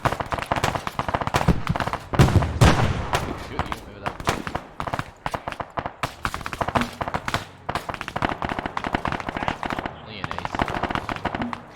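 Video game gunfire, dense rapid bursts of automatic shots crackling continuously near and far while players shout urgently over the shooting.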